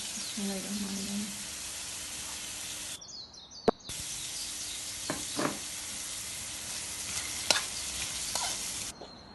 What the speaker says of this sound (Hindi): इसे हम थोड़ा सा फ्राई करेंगे। ये फ्राई हो जाएगा